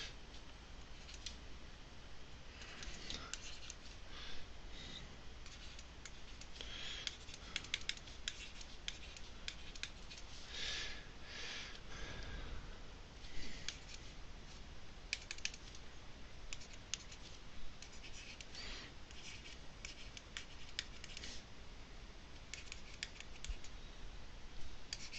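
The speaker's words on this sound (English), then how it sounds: "I'm just writing out what the series is here" Pen or chalk writing out a math series, rendered as a run of light, quick taps and scratches, close and faint, with no talk.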